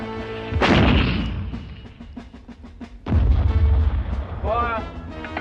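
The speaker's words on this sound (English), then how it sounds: "Put a couple of bombs over on the trenches in front." Artillery bombards enemy trenches in a wartime drama: two heavy booming blasts with rumbling tails, a rattle of distant gunfire between them, and shouting voices mixed in with the explosions.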